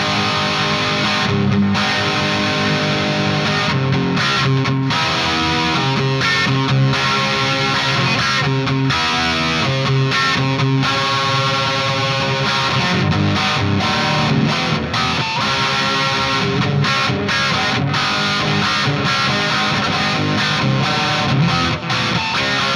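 Electric guitar played through a LeeroyTubes Hardrock100 amp switched to more gain, giving loud, distorted rock riffs with chugging rhythm and sustained notes, continuous and close without talk.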